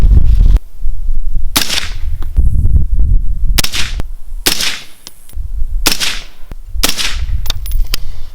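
Suppressed rifle fire from a Winchester 55 grain load through a Dead Air Sandman suppressor: five sharp, loud cracks spaced roughly a second apart, each with a short decay, over steady low outdoor rumble.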